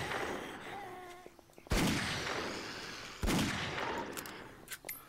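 Two loud, sharp .44 Magnum revolver shots in 7 Days to Die, spaced about a second and a half apart, each with a reverberant tail, with other faint clatter between them.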